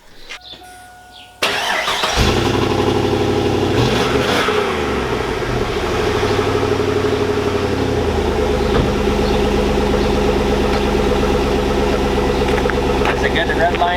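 A cold 2002 Chevy Avalanche 5.3L engine cranks, fires up and revs loudly, then settles into a rough, rumbling run that holds steady at close range.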